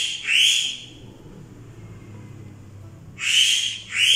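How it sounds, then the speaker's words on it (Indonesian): Two loud, high bird calls ring out, one at the start and one near the end, separated by a quiet stretch of faint background hum. "Ini ada suara burung teman-teman."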